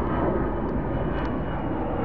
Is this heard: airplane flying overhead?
yes